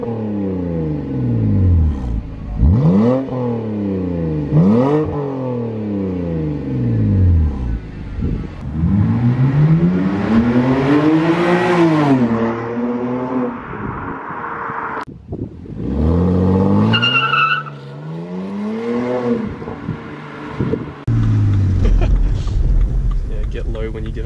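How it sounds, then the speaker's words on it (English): A BMW with a muffler-deleted exhaust revs repeatedly, each rise and fall of engine pitch loud and close, with longer sustained pulls and wind buffeting on the microphone; voices talk over parts of it. "The next shot you will see is the actual fully, not straight piped, but muffler deleted"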